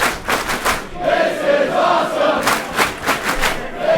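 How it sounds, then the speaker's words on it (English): A wrestling crowd at a Limitless Wrestling show chants and sings in unison, loud and rhythmic, with rising and falling swells and sharp clap-like bursts through the noise. "the crowd serenades for their favorite song"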